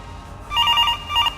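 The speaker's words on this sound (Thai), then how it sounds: "อุ้ยโทรศัพท์โทรศัพท์" A telephone rings in the Roblox horror game Suitborn, two close electronic ring bursts, loud and alone.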